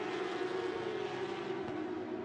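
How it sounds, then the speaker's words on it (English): A race car's flat-six boxer engine roars in qualifying at the Algarve circuit, a loud, sustained, steady drone with little change in pitch. "to hear the roar of a flat six boxer engine is unlike any other"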